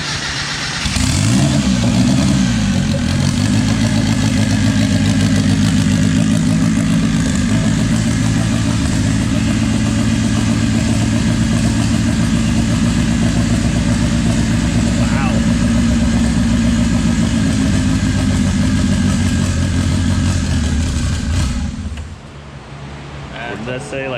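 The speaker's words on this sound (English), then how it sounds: "I'll throw in a clip from the other video of the car starting right now" A 1.9-litre Mazda Miata engine cranks and fires up, then idles loud and close at a steady rumble for about twenty seconds before shutting off abruptly.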